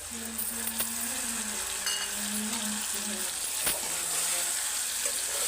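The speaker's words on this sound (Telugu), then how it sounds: "దీన్ని కొంచెం ఫ్రై చేస్తే సరిపోతుంది" Masala paste for a potato mutton curry fries in a pan with a steady, loud hissing sizzle throughout. A few faint clinks sound, and a voice talks softly underneath.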